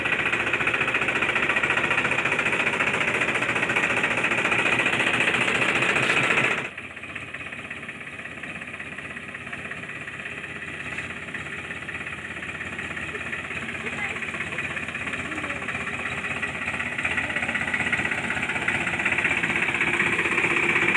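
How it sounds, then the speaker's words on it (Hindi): A mini HMT tractor engine runs steadily up close, a loud continuous mechanical rumble with a dense knocking throb that drops slightly in level partway through and then carries on unbroken. "देखो बच्चों, हमारा ट्रैक्टर तो पहुंच चुका है"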